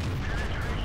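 A T-32 tank cannon fires in the World of Tanks video game, one short, heavy booming blast that fills the moment with dense low rumble.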